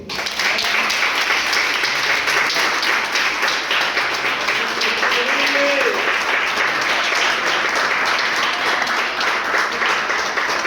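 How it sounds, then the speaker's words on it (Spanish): Sustained loud applause fills a church service as a congregation claps together for Christ, a dense steady wash of hands continuing unbroken from start to finish. "darle un aplauso a Cristo"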